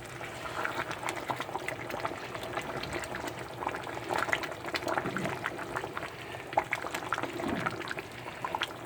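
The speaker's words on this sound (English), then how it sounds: "I'm just going to stir this around, give it a good stir, and make sure there's no clumps of rice in there" Broth and rice being stirred in a pot for Cajun brown jambalaya, a soft steady liquid swishing and sloshing with faint scrapes against the bottom, close and continuous with no talk.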